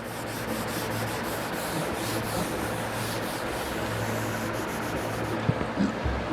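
Writing being rubbed off a classroom board, a steady scratchy scrubbing that runs close and continuous for several seconds with no voice.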